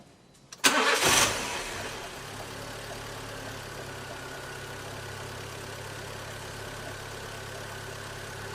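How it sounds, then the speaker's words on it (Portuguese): A car engine cranks briefly and catches with a sharp burst, then settles into a steady low idle that hums on evenly for several seconds. "funcionamos o carro"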